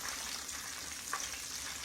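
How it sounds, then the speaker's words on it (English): Flour-coated chicken gizzards fry in hot oil in a pan, giving a steady, close, even sizzle and hiss with no talking. "It's frying pretty good."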